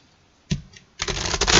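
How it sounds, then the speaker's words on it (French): An oracle card is drawn from a deck, with a short papery flick followed by a longer rapid riffle and slide of cards close by and no talking. "Allez, on va tirer une dernière carte."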